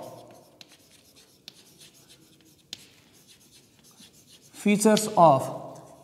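Genetic code features are written on a board with faint, scratchy strokes and a few light taps; near the end a voice speaks briefly.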